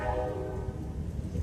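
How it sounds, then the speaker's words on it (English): A train passes nearby and sounds its horn in a long, steady blast over the low rumble of rolling rail cars. "And you have to excuse the train there."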